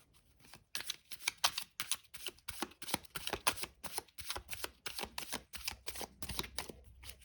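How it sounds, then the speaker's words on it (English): A deck of tarot cards shuffled by hand, a rapid string of crisp riffling flicks in uneven bursts, close and quiet, with no talk. "but we'll give the deck a few more shuffles here."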